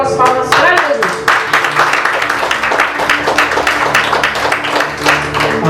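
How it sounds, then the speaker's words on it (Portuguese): A church congregation gives loud, rhythmic applause at a worship service, many hands beating fast and close together for several seconds, with voices and a sustained musical tone faintly underneath at the start. "Recebemos o Senhor com as palmas para Jesus."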